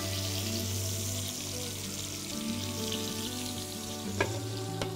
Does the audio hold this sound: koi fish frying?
yes